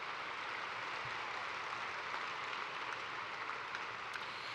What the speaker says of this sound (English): Please join me in a round of applause for all of these College of Nursing leaders.